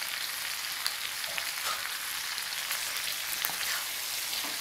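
Raw mango pickle cooking with jaggery in a pan gives a steady, rain-like frying crackle, with soft stirring scrapes mixed in and no talking.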